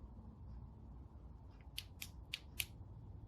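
A Braun LED pocket penlight's switch clicks several times in a quiet, pitch-dark shop, a run of sharp, small, close clicks spaced under a second apart over a low background hum.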